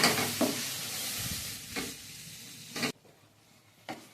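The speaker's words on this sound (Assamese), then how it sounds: "সেয়া বিৰিয়ানীৰ কাৰণে মাংসখিনি ফ্ৰাই হৈ গ'ল।" Chicken marinated and fried with onion-ginger-garlic paste for pressure-cooker biryani sizzles steadily in a pan, with a few sharp scraping stirs of a spoon breaking through the hiss before it drops quieter near the end.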